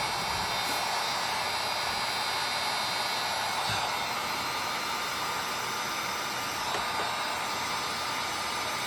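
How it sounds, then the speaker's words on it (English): A heat gun runs continuously during electronics assembly, a steady airy blowing hiss like a hair dryer that stays even in level throughout, with no speech. "So now I take the heat gun again. You let it heat up."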